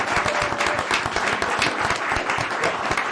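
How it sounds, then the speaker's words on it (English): Applause from a crowd at a city mayor and council meeting, dense clapping sustained at an even level across the moment, fairly loud and close, without speech. "Give her another round of applause."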